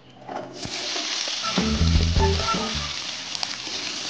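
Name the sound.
cut potatoes sizzling in hot oil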